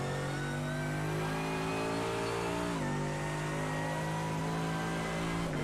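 A race car's engine drones loudly and steadily in a sim racing game at Spa, with one audible downshift midway where the pitch steps before settling back into a sustained tone.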